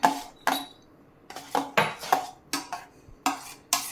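A spoon clinks against a pan while stirring mango pudding mixed with crushed almonds and pistachios, about ten scraping knocks in steady rhythm, close and fairly loud with no talk.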